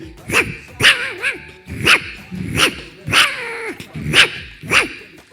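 A dog barks close and loud, about eight sharp barks spaced evenly apart in a steady rhythm with brief pauses between them.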